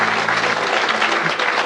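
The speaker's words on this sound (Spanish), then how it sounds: "Si le va a aplaudir, apláudale con todo su corazón." Loud, dense applause fills a church service or testimony gathering, a brief continuous burst of many hands clapping close by with a low hum beneath.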